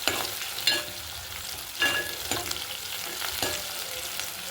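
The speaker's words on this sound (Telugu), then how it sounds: "ఈ విధంగా తిప్పుకోవాలి చూసారా ఇలాగా రొయ్యలు అనేవి మంచిగా ఫ్రై చేసుకోవాలండి" Dried prawns fry in a hot pan for tomato curry, a steady sizzle running throughout with several louder scraping stirs of the spatula recurring about every second, close and clear with no talking.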